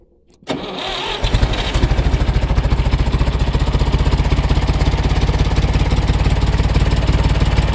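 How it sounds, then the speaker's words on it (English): An engine on a generator or Massey Ferguson 135 tractor, just fitted with a new gas tank, cranks, catches and settles into a loud, steady, pulsing idle close by. "I have cranked it a couple times to get the fuel flowing and hopefully the fuel bowl full in the carburetor. Let's give it a shot"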